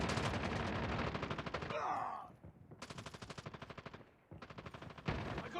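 Rapid automatic gunfire in Call of Duty, played on a Redmi 9 phone, with loud dense bursts, a brief pause near the two-second mark, then renewed sustained volleys and a final burst.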